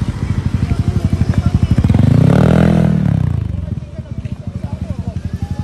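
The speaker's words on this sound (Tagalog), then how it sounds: "may dumating na isang NMAX 155 na kulay blue ang helmet" A Yamaha NMAX 155 scooter, its rider in a blue helmet, pulls up at a Pangasinan enduro rally, the engine swelling louder as it nears and then easing off, with a voice talking over it.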